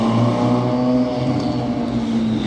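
Ferrari Daytona SP3 with a free-flow exhaust, its engine running loud and near at a steady, sustained pitch with a rich buzzing drone and no talking.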